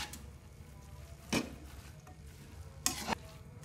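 Lumpia filling seasoned with kecap manis sizzles quietly in a frying pan, broken by two short scraping strokes of a spatula stirring it, with no talk.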